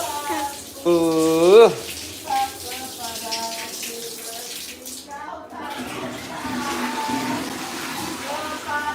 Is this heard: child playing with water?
yes